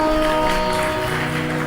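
Audience at a Hindi katha by Devi Chitralekha breaking into applause, a dense continuous clapping wash from a seated crowd, loud and even with a steady musical drone underneath.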